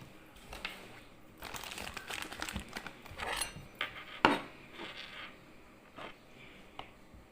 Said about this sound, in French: c'est un couteau à beurre qui coupe pas